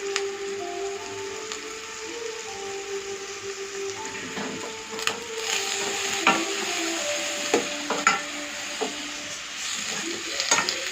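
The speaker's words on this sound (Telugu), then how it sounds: "ఇది ఒక 2 నిమిషాల పాటు మంచిగా కలుపుకోండి" A spoon stirs kasuri methi into a curry in a pan, with scraping and tapping strokes at an irregular rhythm over a low, steady sizzle.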